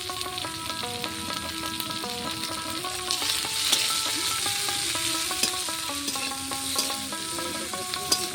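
Chopped ginger and green chilies frying in a pan while being stirred, a steady hissing sizzle beneath a melody of background music, with no voices.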